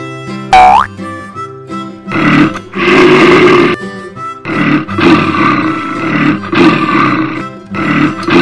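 A lion roars loudly, with several long, rumbling bursts repeating in close succession. A springy cartoon boing comes just before the first roar.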